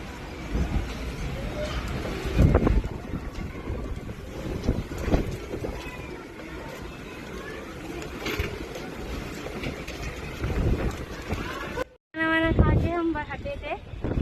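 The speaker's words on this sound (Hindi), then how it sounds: "इतनी तेज हवा चल रही है" Strong stormy wind roars steadily into the microphone outdoors, buffeting it in gusts, while people talk beneath the noise.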